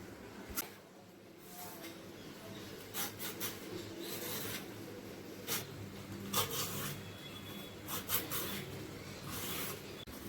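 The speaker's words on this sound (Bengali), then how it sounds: "এখন আপাতত ঝিঙেটা আগে কাটি।" Ridge gourd being sliced on a kitchen board, with soft scraping and cutting sounds and a series of brief sharp knife taps that come at irregular intervals, close and fairly quiet.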